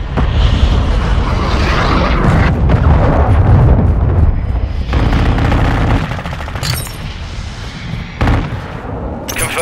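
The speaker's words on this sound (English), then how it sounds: "Friendly cruise missile inbound." Call of Duty: Modern Warfare II battle with a cruise missile strike: loud, continuous bursts of gunfire and booming explosions, layered and chaotic, with sharp blasts standing out near the end.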